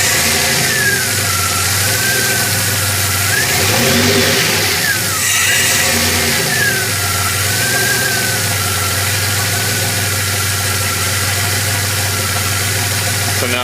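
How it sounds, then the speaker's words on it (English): DeLorean engine running steadily with a brief throttle blip around the middle, the revs rising and falling before settling back to a constant hum; loud and close, with no talking. "Kind of blip the throttle here and see what I can see the control pressure do"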